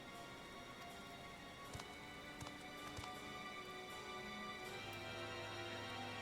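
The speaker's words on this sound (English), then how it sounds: "It's tipping it down with rain." Steady heavy rain in the video game Final Fantasy XIV hisses throughout, with scattered louder drops and a low hum joining near the end; no voices.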